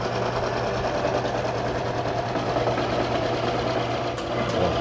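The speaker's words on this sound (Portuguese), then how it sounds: "Esse de vocês ouvir aqui, esse motorzinho é de meio cavalo." An electric cheese grating machine with a half-horsepower motor runs with a steady, loud, even mechanical hum and whir, unbroken for the whole stretch, with no speech over it.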